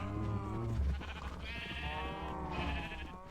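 A video-game sheep bleats in a few wavering, nasal calls, close and fairly quiet, with a short pause between them.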